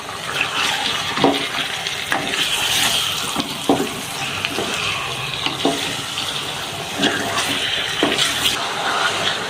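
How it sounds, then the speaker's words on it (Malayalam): Pakistani dhaba-style chicken curry stirred in a pan, a wet, bubbling sizzle with recurring scrapes and knocks of a spoon at a steady, unhurried pace. "നമുക്കിത് ഇളക്കി കൊടുക്കാം"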